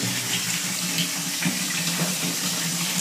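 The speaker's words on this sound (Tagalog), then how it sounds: "Punuin natin na ng tubig." Clean water gushes steadily from a tap into a container for a soap-washing test, a continuous, fairly loud rushing splash with no pauses.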